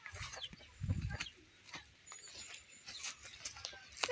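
Chickens cluck and murmur nearby in a village yard, with scattered bird calls and soft rustling around them.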